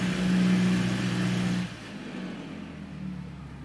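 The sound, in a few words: Cessna 172 aircraft engine idling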